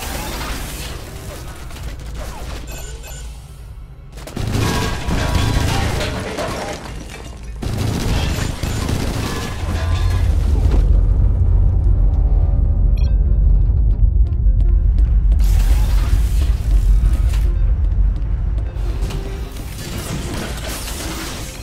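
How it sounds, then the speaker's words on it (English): Automated defense turrets firing at ships in a video game, heard as loud bursts of mechanical booming and rattling fire separated by short gaps, with a heavy rumbling stretch in the middle. "Automated defense turrets."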